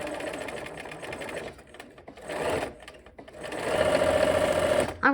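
A sewing machine runs in short bursts while stitching a diagonal seam on a quilt block with bias edges. The whirring motor and needle stop and start, with a longer steady run near the end and a brief tail of clatter.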